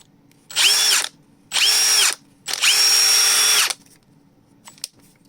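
A Milwaukee 2962-20 impact wrench with a faulty trigger button runs in three separate whining motor bursts, the last one longest, each starting and stopping abruptly between quiet gaps, close up and loud.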